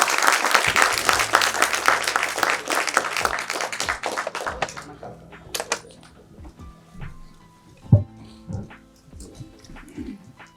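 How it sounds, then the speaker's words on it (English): A loud round of applause fills the room at a launch event, many hands clapping densely for about five seconds before fading into scattered claps and quieter room sounds. "Can we have a loud round of applause,"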